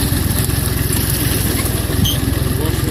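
A BFM rotary tiller with feeler-guided hoe attachment idles on flat ground, its engine a loud, steady, close low chugging with rapid regular pulses throughout and no talking.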